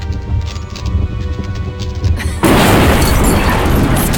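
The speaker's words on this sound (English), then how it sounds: "Some fireworks to keep them busy while I escape this cursed old city." Fireworks going off in the fairy-tale action game Woolfe: The Red Hood Diaries, set in a cursed old city, a sudden loud burst of booming, crackling noise that swells after a quieter stretch and keeps rumbling to the end.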